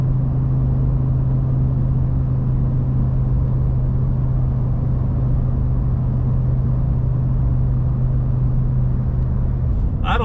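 Ford F250 with the 7.3 Godzilla gas engine and a 4-inch MBRP exhaust cruising on a highway in sixth gear at about 3,000 RPM, a steady, droning low rumble heard from inside the cab, unchanging and continuous.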